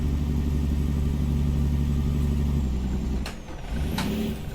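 A Ruda wrecker tow truck in American Truck Simulator drones with a loud, steady low engine note, then briefly dips and changes pitch as it drops a gear and picks back up.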